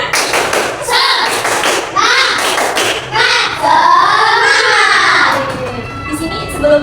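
A primary school class of fifth graders in an Indonesian classroom performs a rhythmic spirit clap, with sharp patterned claps and thumps under children's chanting voices, loud and close.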